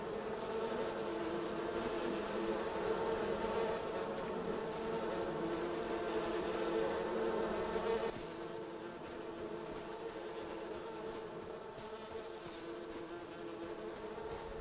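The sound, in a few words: bees buzzing in the video game Farming Simulator 25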